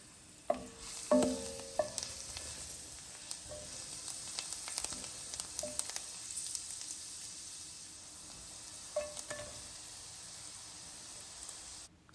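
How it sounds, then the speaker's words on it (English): Garlic sauteing in oil in a pot over medium heat, a soft steady sizzle with occasional stirring clicks and scrapes, close but quiet, no talk. "I'm sauteing some garlic."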